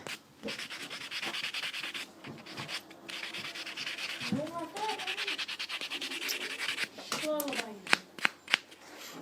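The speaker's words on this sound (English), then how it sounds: "use a buffing block just to get the ridges off and to kind of roughen them up a little bit" A buffing block rubs back and forth across fingernails, making close, dry scratchy strokes in an uneven rhythm. A voice is heard briefly near the end.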